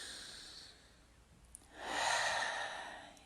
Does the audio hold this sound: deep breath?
yes